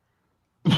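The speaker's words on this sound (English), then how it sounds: "That cough didn't sound too good." A single short cough breaks out sharply after near silence, close and loud, cut off at the end.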